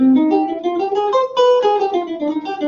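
Guitar running a quick bebop lick over a harmonic minor scale, a continuous flowing line of single notes rising and falling for a few seconds, clear and close with no talking.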